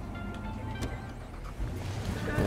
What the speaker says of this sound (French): J'ai peut-être prendre la voiture violette là.